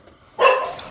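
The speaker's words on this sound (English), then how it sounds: "It's good to hear we got the dogs on guard, protecting the kitchen." A single short dog bark sounds from nearby in a home kitchen. It comes out of near-quiet and fades into a brief ringing tail, with no talking.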